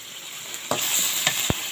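Eel stir-fried in a hot pan, a steady sizzle broken by a few sharp scrapes and clinks of the spatula against the pan, close and without talk.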